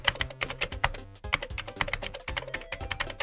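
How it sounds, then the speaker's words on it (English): Fast, irregular keystrokes tapped on a computer keyboard, close and fairly quiet, with short pauses between bursts. "I go up to it and start typing away"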